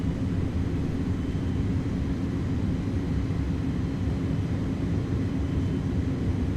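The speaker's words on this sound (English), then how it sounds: "Reversers are out. Decelerating." Thrust reversers roar on an Airbus A300 during landing rollout, simulated in Microsoft Flight Simulator 2024. A steady, dense, low engine rumble holds at an even level throughout, with no voices.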